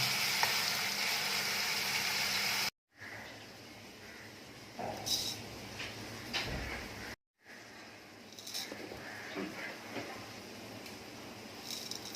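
Onion paste fries in a pan over cumin seeds for a spicy chicken dish, a soft, fairly faint sizzling hiss with occasional stirring scrapes, interrupted by two brief cuts.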